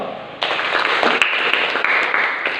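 A room full of people claps together at a classroom teaching session, a dense, sustained burst of applause that starts abruptly and keeps an even level to the end.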